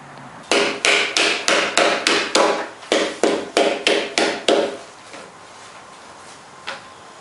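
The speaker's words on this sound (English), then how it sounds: "when you get a knot like this, you definitely want to put your slices close together, because that knot is hard to chisel" A hard knot in a timber frame beam is chiseled with about a dozen sharp, evenly spaced mallet strikes, loud and close, then stopping, followed by one faint tap.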